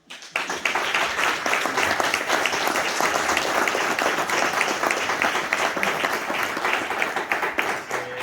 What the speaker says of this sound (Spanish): un aplauso para Ayunar